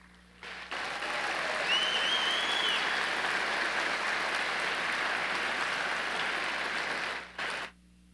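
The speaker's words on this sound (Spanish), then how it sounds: "Recibámosle con un caluroso aplauso." An audience gives a warm round of applause to welcome a group of violinists and a vihuela player at a course inauguration ceremony. The applause is dense and steady, swells in quickly, holds for about six seconds, then fades out.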